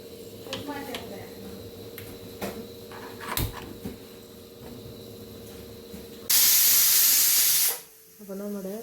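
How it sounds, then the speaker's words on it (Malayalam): A pressure cooker holding vegetable biryani lets out its whistle as a loud, close burst of hissing steam lasting about a second and a half, after a stretch of quieter kitchen sounds with a voice talking. "അപ്പോൾ നമ്മുടെ ഒരു വിസിൽ വന്നു"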